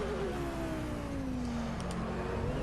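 Audi R8 GT3 race car in Project Cars on Xbox One, its engine note dropping steadily in pitch as it slows and downshifts toward second gear, loud and continuous over track noise.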